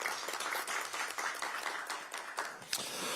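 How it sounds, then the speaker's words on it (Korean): Audience applause at a Democratic Party supreme council meeting in Korea, a dense steady patter of clapping from a roomful of people, moderately loud and continuous with no voices over it. "여러분 차지호 의원에게 박수 한번 보내주시기 바랍니다."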